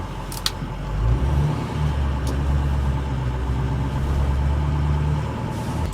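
A 6.0 Powerstroke diesel pickup truck drives along, its engine giving a steady low rumble inside the cab with a couple of faint clicks and slight swells in load, no voices.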